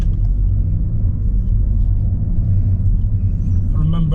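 Low, steady road rumble from inside a car on a driving test route in Chertsey as another car approaches from behind, a continuous close engine and tyre drone with no clear pass-by peak and no voices present.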